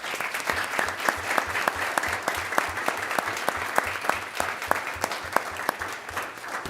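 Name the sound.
audience applause at board meeting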